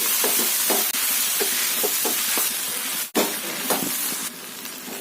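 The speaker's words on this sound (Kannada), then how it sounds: "ಸಪ್ರದ ಅವರೆಕಾಯಿನ ಹಾಕೊಳ್ತಾ ಇದ್ದೀನಿ ಫ್ಲೇಮ್ ಹೈಯಲ್ಲೇ ಇರಲಿ ಈಗ ಇದನ್ನ ಚೆನ್ನಾಗಿ ಫ್ರೈ ಮಾಡ್ಕೋಬೇಕಾಗತ್ತೆ" Hyacinth beans (avarekai) fry in a pan over a high flame, giving a loud, steady sizzle with soft intermittent stirring scrapes and one brief dip in the middle.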